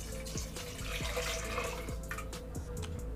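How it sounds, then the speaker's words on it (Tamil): Water pours into a pressure cooker holding mutton, a continuous close splashing trickle with small bubbly drips and clinks, fairly quiet and without talk. "இப்போ இதில் கறி முழுகிற அளவுக்கு தண்ணி சேர்த்துக்குங்க."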